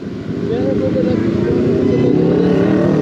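Suzuki Gixxer motorcycle passes close by, its engine drone swelling to a loud, steady roar that mixes with a rider's wind-buffeted voice speaking over it.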